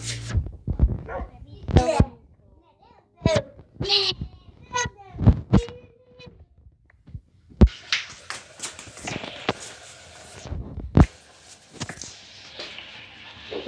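Small dogs yip and bark in short, sharp bursts scattered among a person's cheerful talking indoors, with brief pauses and some rustling between the barks.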